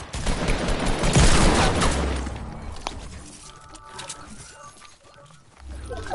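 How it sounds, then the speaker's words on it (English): Gunfire in a video game: a loud, rapid burst of shots crackles in the opening seconds, then fades into quieter scattered reports and background game noise. "Whoa, I'm getting shot at."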